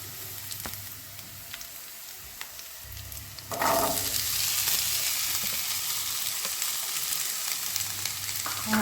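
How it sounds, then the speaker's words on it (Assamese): Cut potatoes are tipped into hot oil for an Assamese dish. After a few quiet seconds a loud, dense sizzle bursts up and carries on as a close, steady hiss, with light clinks of the utensils. "সেইটো কাৰণে প্ৰথমতে আলুখিনি মই ভাজি ল'ব লাগিব।"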